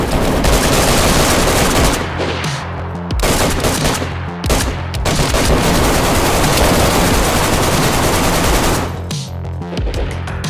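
Loud, close automatic gunfire from the survival game DayZ, long sustained rapid-fire volleys broken by a few short pauses, with echoing reports rolling under the shots.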